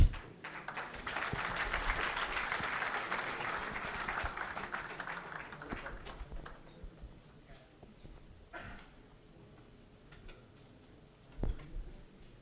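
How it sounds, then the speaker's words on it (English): Audience applause greets the founder of FreeCharge walking on stage at an entrepreneurship event, a dense burst of clapping that fades to scattered claps after about seven seconds, with a few sharp taps near the end. "A huge round of applause, come on."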